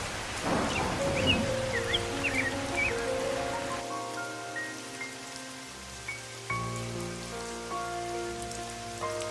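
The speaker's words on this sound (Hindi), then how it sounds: "बारिश हो रही है।" Steady rain falls on a poor farming family's home in a cartoon, a dense continuous patter throughout with musical tones layered over it.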